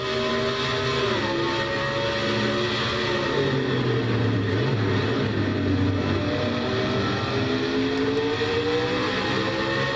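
A race car engine in a Castrol GTX Cup Series race drones loudly and steadily, its pitch stepping through quick shifts and dropping as it brakes for turn one, continuous with no voices.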